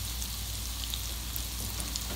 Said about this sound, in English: you can hear the rhythm of the sizzling